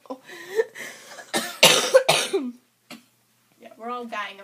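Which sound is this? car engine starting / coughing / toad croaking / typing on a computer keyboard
coughing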